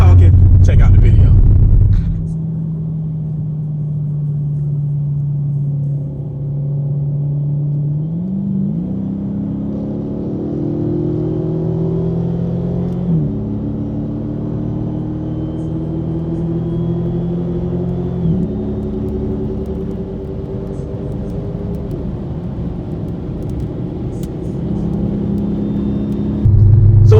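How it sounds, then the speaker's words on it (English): Dodge Hellcat and 392 cars racing side by side, one automatic and one manual: a loud, sustained engine drone that rises in steps through gear changes, with talk heard over it. "now that you've seen two different races from two completely different vehicles, the Hellcat and the 392 automatics versus manuals"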